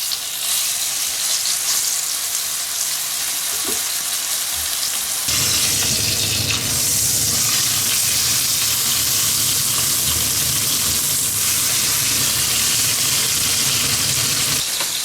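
A beef steak sears in a frying pan with a steady, dense sizzle that swells louder partway through, continuous and close with no talking.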